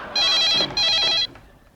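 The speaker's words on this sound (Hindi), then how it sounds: "फोन आया है।" A telephone rings with two bright electronic trills in quick succession, loud and close, then stops.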